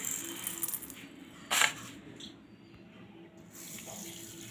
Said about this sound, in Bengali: একটু একটু জল দিয়ে আমি খুব ভালো করে দু তিনবার জল পাল্টে পাল্টে আমি ধুয়ে নেবো সাবুটাকে